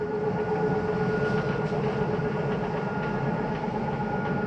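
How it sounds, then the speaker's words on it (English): A 2022 Flagstaff Microlite 25FBLS travel trailer's living room slide-out retracting, a steady close mechanical motor drone with a constant hum and faint rattles, running alone without pause. "That is just the slide mechanism telling you that it's in as far as it needs to go."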